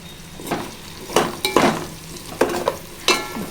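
Round-cut bitter gourd pieces are stirred as they fry in oil, with a low sizzle beneath several distinct scraping strokes of a spatula against the pan, close and fairly loud, with no talk.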